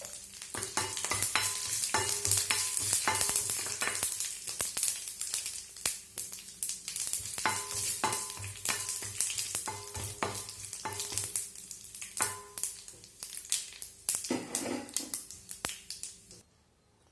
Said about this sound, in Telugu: ఇప్పుడు తాలింపు పెట్టుకోవాలండి